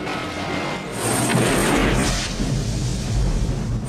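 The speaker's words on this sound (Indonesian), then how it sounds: "Saat heli lawan menembak, terjadi ledakan yang begitu besar." A big helicopter explosion booms out with a rumbling low roar and crackling debris that lingers and fades slowly.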